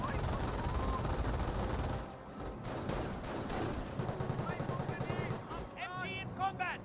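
MG42 machine gun firing in the game Company of Heroes amid battlefield noise, sustained rattling bursts with chirping tonal effects later on, while a voice talks over the fighting.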